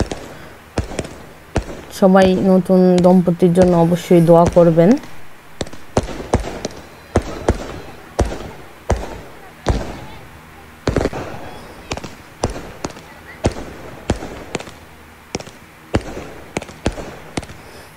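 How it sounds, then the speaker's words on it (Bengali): Fireworks burst at a wedding turmeric evening celebration, a long series of sharp cracks and bangs at irregular intervals, with someone speaking briefly over the early pops. "এই তো আতশবাজি স্টার্ট হয়ে গেছে"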